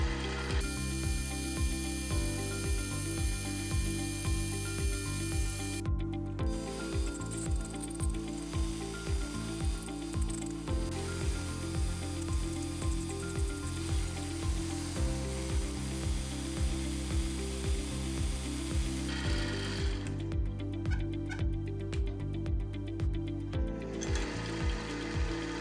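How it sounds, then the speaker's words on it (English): Continuous loud mechanical grinding and chattering of a mill cutting a deep groove in a metal block, steady and repetitive throughout, with no talking. "I can now mill a deep groove in the block"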